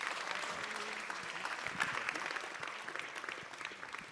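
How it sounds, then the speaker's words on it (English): A crowd applauding in a hall, continuous mid-level clapping from many hands that stays even and slowly thins, with no talking over it. "Big round of applause."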